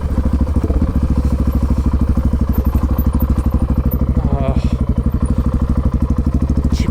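Honda XR650R big single-cylinder dirt bike being ridden: a loud, close, rapid thumping engine pulse throbbing steadily throughout, with some rattle and clatter over it.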